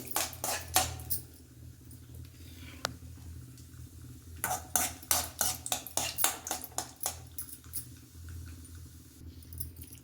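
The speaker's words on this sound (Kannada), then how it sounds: "ಸ್ವಲ್ಪ ಬಿಸಿ ಆಗಲಿ ಗೋಡಂಬಿ." Cashews being roasted for sajjige in a pan, with bursts of rapid scraping and clattering stirring separated by quieter stretches, close up.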